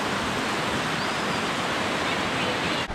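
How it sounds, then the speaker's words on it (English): A small miniature waterfall on a Smoky Mountains hiking trail pours steadily, a dense, close, unbroken rush of water that stays loud and even throughout with no voices. "it's still kind of a nice little miniature waterfall"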